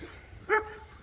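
A single short dog bark, faint and somewhat distant, rises briefly over quiet outdoor ambience on an afternoon hike.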